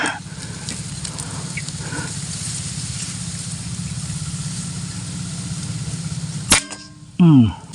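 A Taurus A2K air rifle firing a JDP pellet while hunting outdoors, one sharp crack heard after a long stretch of steady background hum, followed by brief rustling.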